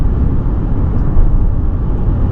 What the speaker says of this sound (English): You're gonna hear road noise,